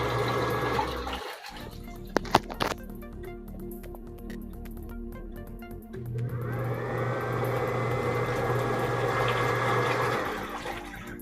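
Washing machine powered by an inverter: a low motor hum and watery churning, a pause with a few clicks and knocks, then the drum spins back up into a steady, rising whir.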